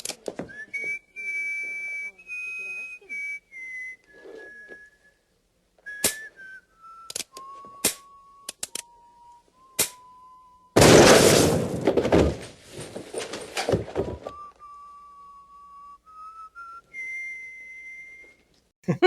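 A person whistles a slow, wavering tune in clear sustained notes, interrupted by a few sharp knocks and a loud burst of noise midway.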